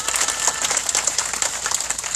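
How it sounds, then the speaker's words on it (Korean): Dense applause from a crowd at an outdoor peace rally in Soseong-ri, honoring fellow activists. Continuous, fairly loud clapping with a fast, even patter and no voices. "우리 두 분 동지분들께 다시 한번 큰 박수 주시기 바랍니다"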